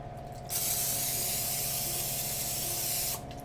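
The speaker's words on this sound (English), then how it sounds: "Oh, I wanted to spray it with Pam so they get crispy." An aerosol can of Pam cooking oil spray hisses onto food in one continuous, close, loud burst lasting about three seconds, with quiet kitchen hum before and after.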